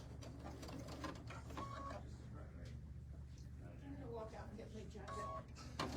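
A sewing machine runs a center-needle stitch on a zipper pouch with continuous bias binding, a fast even whirring hum heard close under a voice talking throughout.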